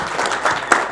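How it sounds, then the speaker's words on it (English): Audience at an ASEAN-India blue economy workshop applauding the speakers, a steady, fairly loud patter of clapping from a seated crowd in a conference hall, with one sharper clap near the end. "Let's give some applause for our prominent speakers and also the floors."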